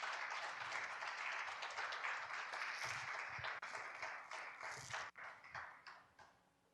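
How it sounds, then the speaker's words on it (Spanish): A church congregation applauds during a sermon, a full burst of clapping that gradually thins and fades toward the end. "Dale un aplauso al Señor si tú lo puedes creer."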